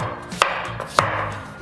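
A knife chops through raw pumpkin on a cutting board in a kitchen, two sharp, distinct chops about half a second apart with a softer knock between them, close and fairly loud.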